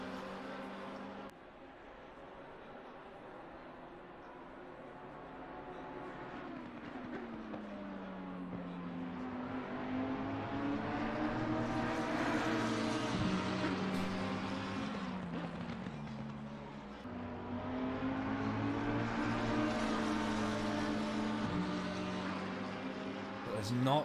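Lamborghini race car engine at Donington Park in a racing video game, a sustained high revving drone that rises and falls with gear changes through the lap, a voice talking over it.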